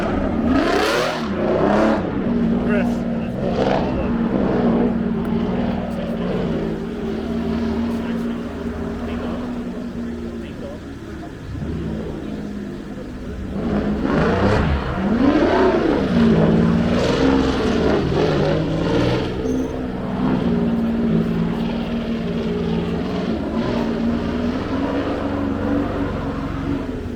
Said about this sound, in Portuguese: Tá esquentando os pneus dianteiros.